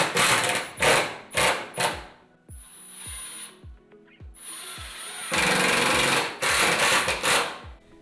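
A power screwdriver drives 4 mm by 4 cm screws into pallet wood for a headboard, running in short repeated bursts, each screw ending with a thud, and the motor whirs loudly near the end.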